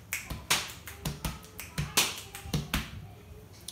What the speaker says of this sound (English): you can bring in the leg slap.